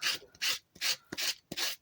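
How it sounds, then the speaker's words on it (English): Rhythmic raspy rubbing strokes, five in quick succession, close and scratchy, as a sanding block is worked back and forth over a decoupaged cast skull. "I'm sanding away from the main part of the design."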